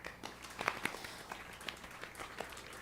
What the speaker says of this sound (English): Everyone give Chris a round of applause.